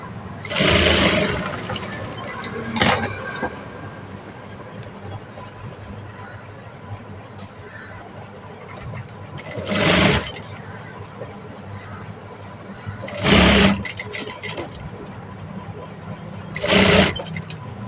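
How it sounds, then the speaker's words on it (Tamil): A sewing machine stitches an old blouse sleeve hem in short bursts, its whirring runs rising sharply several times at close range between quieter stretches with a voice talking in the background. "இதோட ஒரு ஓடு தையல் போட்டுக்கலாம்."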